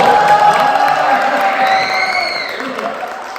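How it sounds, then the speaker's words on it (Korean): An audience at a talk concert breaks into applause and some cheering, with a voice calling out over it as the clapping fades. "박수 한번 보내주시죠."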